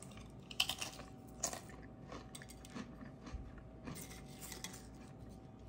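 A person bites into a crunchy Guerrero zero net carb chipotle tortilla and chews it up close, giving a few sharp crisp cracks followed by quieter irregular crunching, all faint and without any talk.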